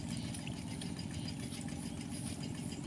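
A water pump engine pumping water into a rice field runs with a steady, rough mid-low drone and a fast, even chugging pulse, close by and unbroken throughout.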